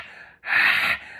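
A person imitates heavy, animal-like breathing with a sharp, loud rasping breath held for about half a second, framed by quieter breathy sounds before and after.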